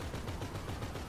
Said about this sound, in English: Irving, you're getting a little too excited over shooting people.